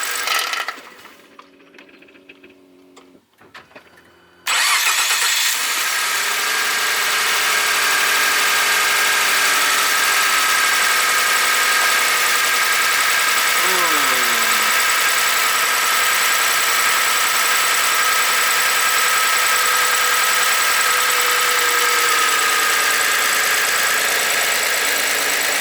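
A truck engine goes quiet briefly, then cranks back to life and settles into a steady, loud idle with a constant hum and a short rising whine partway through.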